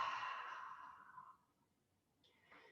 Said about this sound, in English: And then on our next inhale, exhale,